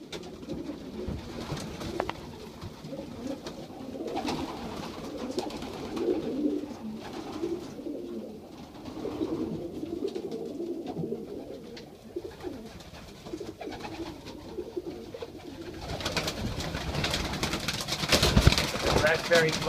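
Young pigeons and their parents, including a splash raspberry cock, cooing softly in a loft, repeated low throaty coos over steady background noise while someone talks nearby.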